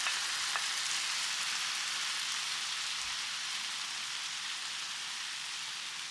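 Tomatoes sizzling and frying in a small pan for ratatouille, a steady dense crackle of hot oil throughout, even and close.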